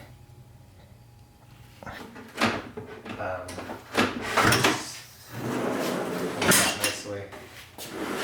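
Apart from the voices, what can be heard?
sliding sleeper platform cargo drawer moving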